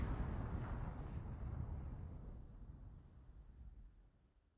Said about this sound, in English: might as well fire one last salvo